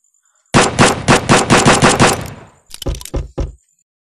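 Smith & Wesson gun firing in the VR game Gunz VR, a loud rapid string of about ten close shots, then a short pause and a second quick burst of four or five shots.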